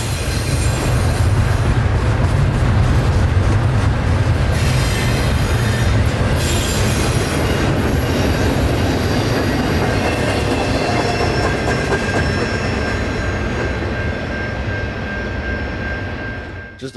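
A Norfolk Southern NS-229 freight of containers and UPS trailers rolls past at night in Dalton, giving a loud, sustained roar of rail cars with squealing wheels and rhythmic clatter that fades slightly toward the end.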